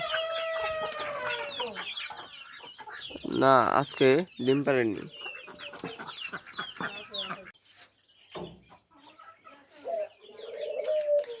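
A rooster crows loudly nearby in the morning, a long rising and falling call, amid clucking hens and a person speaking briefly.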